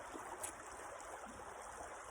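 A river trickles and flows in a soft, steady wash of water, faint and continuous, with a small splash or click partway through and no voices.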